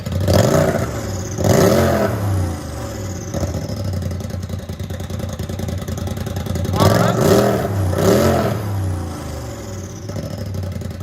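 Straight-piped 2021 Polaris RZR XP 1000 Turbo engine, loud and close, with sharp throttle blips at the start and a cluster of hard revs midway over a choppy, lumpy idle.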